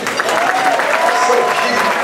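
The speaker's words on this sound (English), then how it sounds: "Just give a big round of applause for Cicely Tyson." A gala crowd applauds for Cicely Tyson, steady clapping with some cheering and voices mixed in throughout the short burst.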